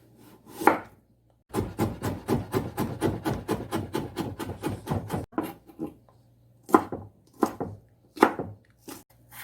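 A knife slices an onion on a cutting board: a quick run of about twenty even, close chops, then a pause and several slower, separate cuts, clear and crisp with no talking.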